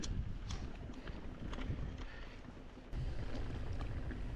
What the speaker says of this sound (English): I'm just going into the wind. Makes for a lot of wind noise.